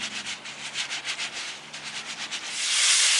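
Aquarium filter media from a Marineland filter being rubbed clean by hand, a rhythmic series of close, soft scrubbing strokes that swell into a broader, louder rushing scrub near the end.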